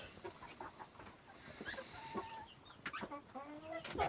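Chickens down by the chicken door of a farm barn cluck and squawk softly in scattered short calls, faint and somewhat distant against a low hiss, with no talking.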